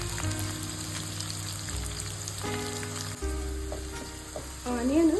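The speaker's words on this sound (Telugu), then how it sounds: "ఆనియన్ కొంచెం ఆయిల్లో ఫ్రై అవ్వాలండి." Thinly sliced onions frying in oil in a pot for majjiga sambar, with a steady close sizzle and occasional stirring.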